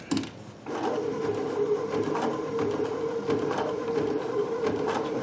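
A Babylock Sashiko sewing machine stitches fabric in a fast, continuous mechanical rattle that starts after a brief pause and keeps running at a steady level.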